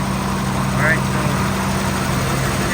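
A 1955 Buick engine idling after stalling problems and fuel mixture idle screw adjustments, a steady close mechanical drone with a low hum that holds constant throughout, alone with no speech.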